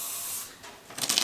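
Spray paint in red hisses from an aerosol can onto a chainsaw ammo box being built, two short bursts close by with a brief pause between them.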